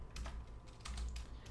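Someone types code on a computer keyboard in a short, steady run of close key clicks while making a Roblox Studio script, with no speech.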